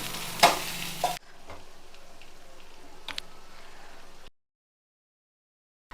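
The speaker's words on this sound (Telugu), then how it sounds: "కరివేపాకు, కొత్తిమీర వేసి మళ్ళీ గ్రేవీ వేసుకుంటూ రావాలన్నమాట." Egg curry gravy with curry leaves and coriander is stirred in a pan, giving a soft scraping and faint sizzle after a brief louder clatter at the start, then trailing off into silence.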